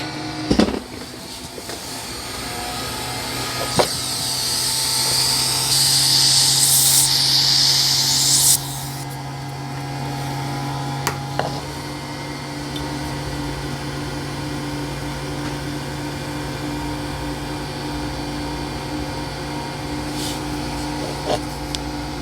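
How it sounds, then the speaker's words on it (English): A vacuum suction unit, its level set by a lamp dimmer, runs as a steady whooshing hum throughout, briefly louder and hissier for a few seconds early on, with occasional clicks and knocks. "it's connected to this vacuum line that runs all the way over up to this suction unit here"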